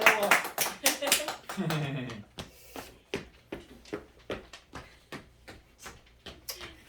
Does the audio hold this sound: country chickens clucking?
no